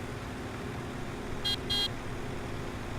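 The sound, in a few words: vehicle horn honking in the video game Farming Simulator 17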